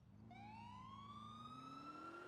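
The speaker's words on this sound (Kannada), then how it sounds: "ಸೈರನ್ ಬೇರೆ ಹೋಗ್ತೈತ್" Police car siren in GTA 4 gameplay, a steady rising electronic wail that climbs in pitch over about two seconds, loud and continuous with a low engine rumble beneath and no talking.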